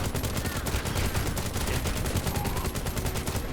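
Rapid weapon fire from a sci-fi shooter game, The First Descendant: dense, continuous bursts of shots crackling steadily throughout at loud, even volume, with no pause between rounds.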